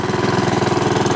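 A Honda HRX217 lawn mower engine running close and loud, a steady pulsing mid-pitched chug with no talk over it.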